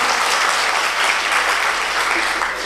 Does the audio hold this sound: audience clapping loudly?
yes